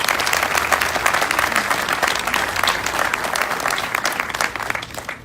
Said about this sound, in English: So please, a round of applause for George Fromm.